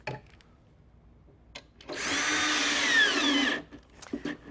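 A drill drives a screw through a Kreg hidden-fastener deck jig, one steady whirring burst of about a second and a half, close and loud, with clicks of handling before and after.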